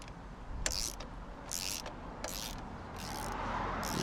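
Socket wrench ratcheting on a Triumph Bonneville T100 motorcycle: five short bursts of clicking, each about half a second long, evenly spaced and close up over a low background hum.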